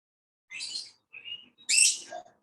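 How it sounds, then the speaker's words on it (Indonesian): Bird calls from a zebra dove (perkutut), a few short chirping phrases with pauses between them, fairly clear with no talk. "suara burung perkutut ya."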